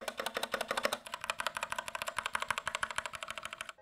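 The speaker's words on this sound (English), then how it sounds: "It makes the keyboard sound really nice." Typing on a mechanical keyboard with red switches and custom keycaps, a fast, steady run of close, crisp key clacks with no talk.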